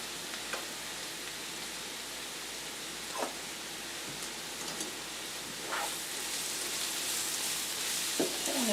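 A stuffed pepper casserole mixture cooking in oil in a pan, a soft, steady sizzle like light rain, with a few faint stirring clicks and scrapes spread through it.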